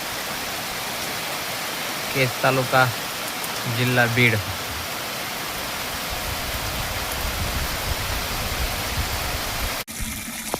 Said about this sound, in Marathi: आज आमच्याकडे पाऊस आला आहे